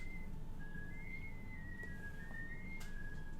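A faint, steady whistled melody heard through a signalscope instrument in the space exploration game Outer Wilds, with sustained tones gliding slightly between pitches over a soft hiss.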